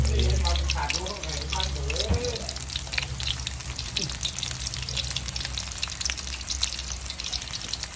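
Rice balls fry in a pan with a steady, crackling sizzle that persists throughout, while a voice speaks briefly near the start.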